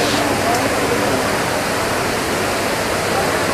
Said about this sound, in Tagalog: gentle flow of the waterfall itself